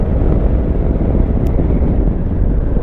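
A Suzuki V-Strom motorcycle on an adventure ride produces loud, continuous engine drone mixed with heavy wind rumble, close and unbroken throughout.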